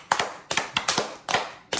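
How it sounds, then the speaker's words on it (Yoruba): Hands clap in short, sharp bursts for Maryam during a children's counting game, about six quick claps in an uneven rhythm, close and fairly loud, with no talking. "4 ẹ̀rin ẹ pàtẹ́wọ́ fún un"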